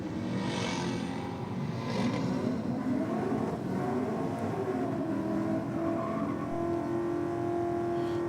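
Drag race between a Corvette and a Chrysler, the engines roaring loud and steady down the strip, a sustained mechanical drone with rising tones as they accelerate, no talk over it.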